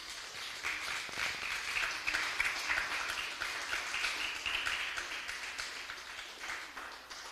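Congregation applauding during a Spanish-language church service, a soft, fairly distant wash of clapping that swells slightly and then tapers over several seconds, with no talk over it.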